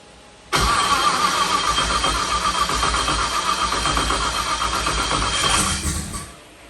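A rebuilt turbo race car engine cranks and catches with a sudden loud roar, then settles into a rough, loud idle before fading slightly.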